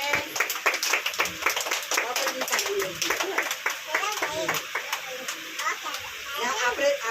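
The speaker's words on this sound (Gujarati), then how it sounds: "ચલો તાળી પાડો પોતપોતા માટે" Young children clap their hands at home, bursts of quick uneven claps in several rounds while an adult and kids talk over them.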